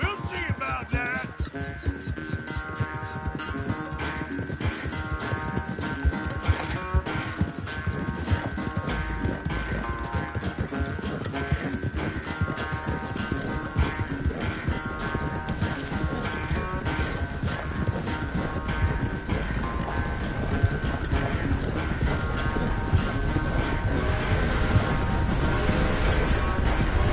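Horse hooves gallop in the video game Red Dead Redemption 2. A steady, rapid clip-clop runs close and continuous over a game soundscape with a faint sustained tone.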